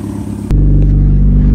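A car engine fitted with a downsized turbo fires up with a sudden loud start and settles straight into a deep, steady, rumbling idle, heard up close.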